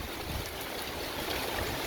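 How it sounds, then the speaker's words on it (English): Heavy rain from a severe thunderstorm on Dauphin Island, Alabama pours in a dense, constant hiss, steady and enveloping with no gaps. "And here comes the pouring rain now."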